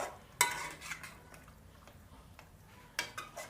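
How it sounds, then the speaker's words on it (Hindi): A spoon stirring white mutton karahi in a metal pot, with scraping strokes and a few sharp clinks against the pan, close and fairly quiet. "अब चम्मच की मदद से इसको करेंगे मिक्स।"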